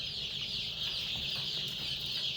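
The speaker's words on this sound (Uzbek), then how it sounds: "Andijon qora tovuq jo'jalari, adleski jo'jalarimiz." Nine-day-old Andijan black chicks, vaccinated and healthy, keep up a steady, dense chorus of high cheeping with no pauses, close by and with no talk.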